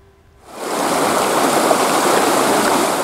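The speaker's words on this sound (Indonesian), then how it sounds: "Air Sungai Cidurian masih mengalir deras ke permukiman warga melalui tanggul yang jebol" Floodwater from the Cidurian River surges through a breached levee into a village, a loud, steady roar of rushing water that rises in after a brief quiet start and holds constant.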